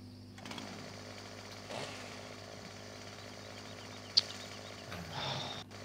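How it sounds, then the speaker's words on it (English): Buzzing chainsaw from the Farming Simulator video game failing to cut through a tree, a steady mechanical drone held throughout at moderate level, with a few brief louder swells. "The chainsaw's not cutting the tree."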